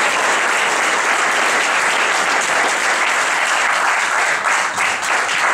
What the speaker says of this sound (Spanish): Yo ahora pido para ustedes,